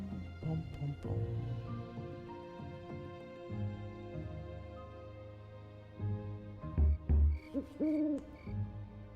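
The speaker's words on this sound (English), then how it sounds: "Owl time." An owl in the video game Airborne Empire, a flying city builder, hoots a few times over soft game music, the calls standing out clearly near the end.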